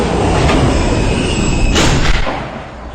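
An R160B subway car on the D train runs along the E line toward Union Turnpike, producing a loud, steady rumble of rolling wheels and motors with a brief brighter burst midway before easing slightly at the end.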